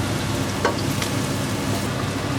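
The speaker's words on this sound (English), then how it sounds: "I've just added the tomato puree, so I'm just going to mix that up now" Tomato puree sizzles steadily with browned onions in a pan for a chickpea curry while being stirred, a close, continuous frying hiss with a few soft scrapes.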